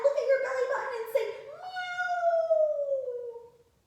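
Children in a kids' yoga class imitate a cat's meow during cat pose, several young voices joining in one long, drawn-out meow that slides down in pitch before fading out.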